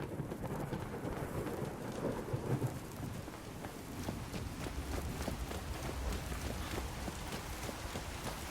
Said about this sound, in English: It rains and thunders and all kinds of stuff